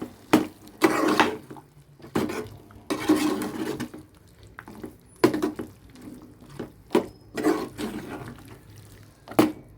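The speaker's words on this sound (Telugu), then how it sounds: "ఇప్పుడు మనం వాటర్ వేసుకుంటున్నాము" Water is poured from a tomato-blender jar into mutton curry cooking in a pot, with several splashing bursts, stirring scrapes and clinks of utensils against the vessel at close range and no talk.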